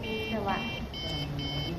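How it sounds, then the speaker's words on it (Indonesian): IoT door access buzzer sounding after an RFID card is detected, a series of short, clear electronic beeps in quick succession, close and moderately loud over faint background noise. "buzzer akan berbunyi sebagai indikator akses berhasil"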